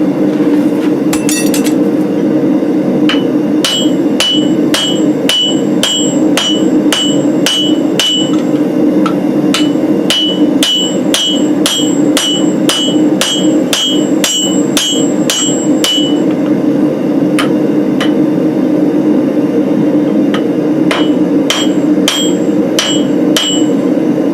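A father and son forge a steel tomahawk, their hammers ringing in rapid rhythmic bursts of sharp metallic strikes on the anvil over a constant roar of the forge fire.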